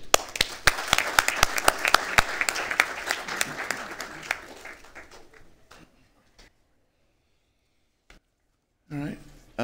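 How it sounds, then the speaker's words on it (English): A room claps at a Downey city council meeting: dense, loud applause fades over about five seconds into near silence, with a few stray claps and then a voice at the end. "Another round of applause."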